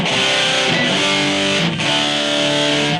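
A distorted electric guitar tone patch on a BOSS eBAND JS-10 rings out loud and sustained for about three seconds with a brief dip partway through.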